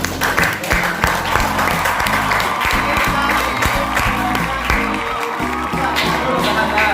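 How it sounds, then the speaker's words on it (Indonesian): Students of class 10-3 applaud together in a classroom, loud continuous clapping with scattered cheers and whoops, sustained throughout with crowd noise underneath. "Berikan tepuk tangan buat 10-3 semuanya."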